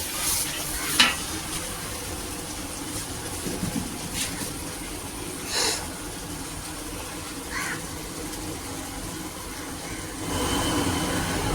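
Food sizzles and fries in a pan over a low gas flame as it is stirred, a soft steady crackle with occasional scraping clinks of the utensil against the pan, fairly quiet throughout.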